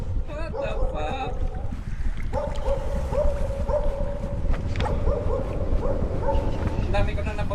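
A dog in the horror video game Don't Scream Together barks and yips repeatedly in short sharp volleys over a steady game background drone, fairly loud and close.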